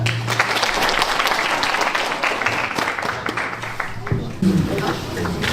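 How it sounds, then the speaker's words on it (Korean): An audience applauds at the opening ceremony of a youth concert held with the Cheongsan residents' autonomy council, continuous mid-level clapping that carries on steadily before a brief voice near the end. "박수 부탁드립니다."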